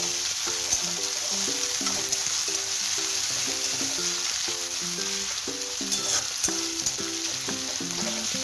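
Chopped onion and carrot sizzle steadily in a hot pan with oil, a continuous bright crackle over a light melodic music bed, with no voices.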